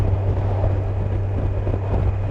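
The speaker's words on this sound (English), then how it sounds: "I've not had a lot of luck finding a good position for the screen that will keep the wind turbulence off my crash helmet." Steady roaring wind turbulence buffets a crash helmet while riding a 2020 Kawasaki Versys 1000 motorcycle, a dense, continuous rush over a low constant engine drone.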